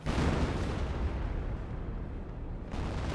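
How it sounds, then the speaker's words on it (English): An M2 mortar barrage in the video game Company of Heroes lands as heavy, rumbling blasts that swell and roll together into a dense, booming wash, loud and close with no talking over it. "Got another M2 barrage here."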